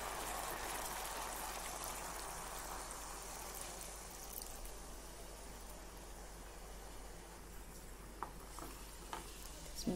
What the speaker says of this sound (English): now I'm going to add half glass of water.